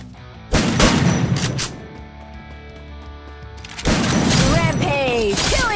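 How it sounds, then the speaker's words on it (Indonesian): Shotgun blasts in a solo-versus-squad mobile battle royale shooter match, a few loud broadband bursts near the start and again later, mixed with game effects and talk. "Ini dek shotgun dek, rasain dek."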